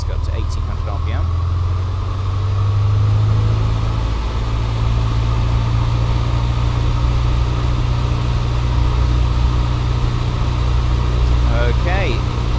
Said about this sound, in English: let's go up to 1800 RPM